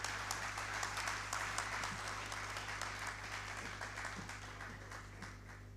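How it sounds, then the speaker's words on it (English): Audience applause at a youth empowerment summit, sustained dense clapping from a large crowd over a steady low hum, slowly tapering across the stretch. "Please give her another round of applause."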